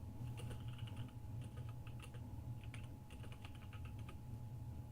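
Fingers type a dice roll command on a computer keyboard, quick irregular clusters of light key clicks over a steady low hum, fairly close and quiet.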